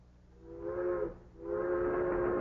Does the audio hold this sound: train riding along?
yes